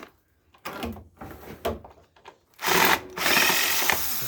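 A power drill runs in short bursts, then in longer sustained whirs, while backing screws out of a floor vacuum's housing, with clicks and handling noise in between; close and fairly loud.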